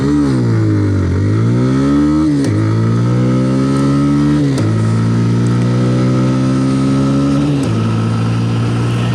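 A 125 cc commuter motorcycle, either a Bajaj Pulsar 125 or a TVS Raider 125, is ridden up through its gears. The engine note climbs loud and close, with three distinct rises separated by short dips at the gear changes.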